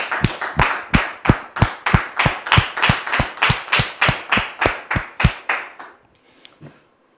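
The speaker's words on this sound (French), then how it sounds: "On le reçoit, s'il vous plaît, avec vos applaudissements." A TV studio audience welcomes a guest with loud, rhythmic clapping in unison, about seventeen evenly spaced claps that stop abruptly, leaving near silence.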